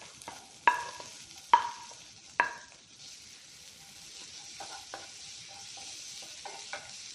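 Chopped onion sautéing with cumin seeds in sunflower oil, a quiet steady sizzle punctuated by a few crisp spatula knocks against the pan early on, then lighter stirring scrapes.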